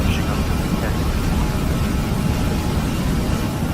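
Airliner engines roaring at full power on the takeoff roll out of Changi, Singapore, bound for Ngurah Rai, Bali; a loud, steady broadband rumble and hiss from inside the cabin, unbroken throughout.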